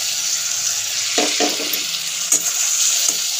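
Grated tomatoes hit hot frying ginger and garlic in a pan for pav bhaji, giving a steady close sizzle with a few stirring scrapes and clinks, no voices.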